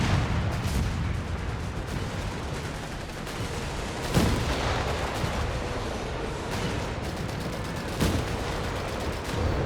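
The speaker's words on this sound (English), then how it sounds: "More shots coming in through the Nebels" Nebelwerfer rocket artillery fire in Company of Heroes 3 during a 4v4 winter battle, heavy dense rumbling barrages with a few sharper blasts standing out, continuous and loud, no voices.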